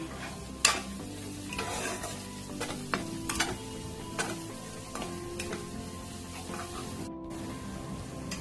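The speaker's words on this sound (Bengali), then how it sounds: "মশলাটা দেখো খুব ভালো করে কষা হয়ে গেছে, মশলাটা দিয়ে তেল ছেড়ে দিয়েছে।" Spice masala fries in oil for a prawn malai curry, giving a soft, continuous sizzle with intermittent clicks and scrapes of a spatula stirring the paste in the pan.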